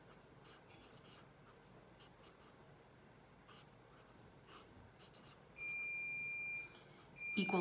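Chalk or marker strokes on a board during an advanced mathematics lesson on ellipses and hyperbolas: soft, faint scratching and tapping in short bursts, with a brief steady electronic tone near the end.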